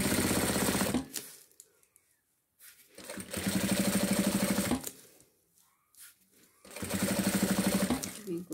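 Sewing machine stitching a thermal bag made of synthetic material, three loud bursts of rapid rhythmic needle clatter separated by pauses, close up.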